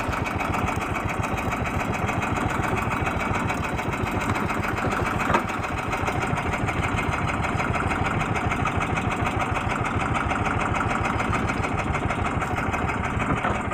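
A boat engine runs steadily, a rapid even chugging throb that holds for the whole stretch, close and fairly loud with no voices.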